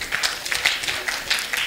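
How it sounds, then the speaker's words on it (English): An audience at a children's conference claps, a brief, steady patter of hands at moderate volume. "Clap for them."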